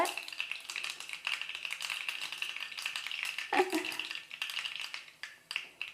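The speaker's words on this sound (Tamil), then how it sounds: "எண்ணெய் ஓரளவுக்கு சூடாகிடுச்சு கடுகு சேர்த்துட்டு கடுகு பொரிஞ்ச உடனே கடுகு பொரிய ஆரம்பிச்சிருச்சு" Mustard seeds splutter and crackle in hot oil in a pan while tempering for pepper rasam. A steady, close sizzle runs throughout, with dense small pops and one sharper burst of crackling midway, and no voices.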